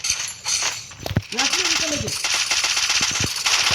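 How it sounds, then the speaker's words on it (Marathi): Rapid bursts of automatic gunfire crackle through a battle royale video game match, loud and close, mixed under excited voices of players talking over team chat. "करण्या फायरिंग कर"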